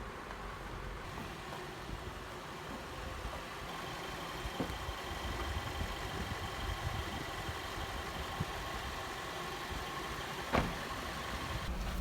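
A used Acura RSX Type-S DC5 sits idling, its engine giving a steady, fairly faint low hum with little change in pitch for several seconds and only an occasional small click, with no voices over it.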